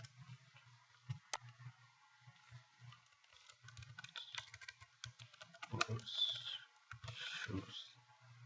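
Keys clack on a computer keyboard in short bursts of typing, close and faint, with irregular pauses and a few quicker runs of strokes.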